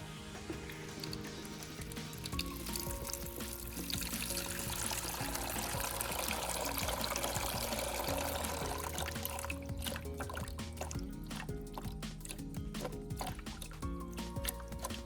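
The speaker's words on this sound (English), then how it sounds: "When pouring out the solution, the water is much cloudier than before" Baking soda solution poured out of a battery during cleaning, a continuous liquid splash and trickle that runs for a long stretch, then breaks into dribbles and drips near the end.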